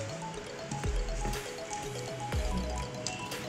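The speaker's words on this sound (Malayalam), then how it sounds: "മീനിൽ കുറച്ച് വെള്ളം ചേർത്ത് കൊടുക്കാം." Water is poured onto fish in a pan while fish fry is being prepared, giving soft, liquid trickles and drips with a few brief splashy pulses, close and fairly quiet.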